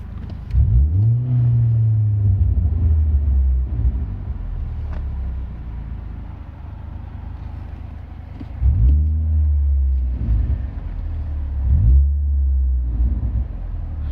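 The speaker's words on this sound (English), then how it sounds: "I figured I'd give you a quick engine rev now that she's warmed up." An Audi A4 engine, warmed up, revved in short bursts: three sharp climbs in pitch that quickly fall back to a low idle rumble, close and loud, with no speech over it.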